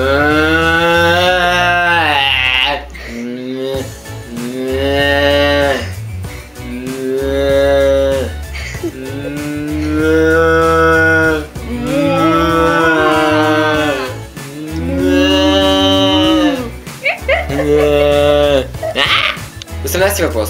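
A human voice imitates a dying cow, giving long drawn-out mooing and bleating wails that rise and fall in about six loud, sustained bursts over twenty seconds.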